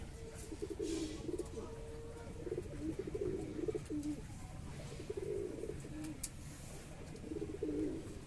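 A Kalshera Giribaz pigeon coos softly close by in a steady series of low, rolling calls repeated every second or two over faint background noise.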